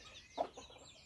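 A hen gives a single short, close cluck among chicks, followed by fainter soft peeps in an otherwise quiet setting.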